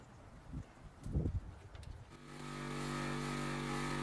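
A heavy-duty portable air compressor inflating a car tire, its motor humming in a steady, loud drone from about two seconds on, after some muffled handling bumps near the start.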